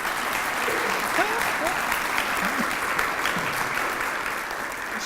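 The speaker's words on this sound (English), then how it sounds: "Well, let's give a great big round of applause for Colin Marshall." Sustained audience applause fills a ceremony hall after an introduction for Colin Marshall at a senior hall of fame induction event, a dense steady clatter of many hands with faint voices and whoops underneath.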